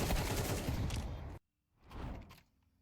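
Gunfire in a Counter-Strike match, a dense burst of rapid automatic shots that cuts off abruptly, then a shorter muffled flurry a moment later.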